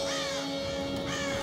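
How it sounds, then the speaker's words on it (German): Ravens in the Tomb Raider video game give a couple of harsh, loud caws over a steady tonal background hum, close and clear with no talking. "Weil Raben, die meinen, sie können hier schon mal nach Leichen suchen"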